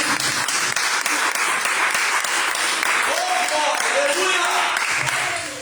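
A church congregation claps together in a loud, sustained burst of applause during a worship service, with some voices rising under it before it fades.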